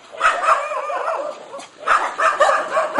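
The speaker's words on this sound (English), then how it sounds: "More dogs waiting for lunch." Rescued dogs at a kennel in the Philippines bark and yip in bursts while waiting for lunch, several animals close by with whimpers between the louder barks.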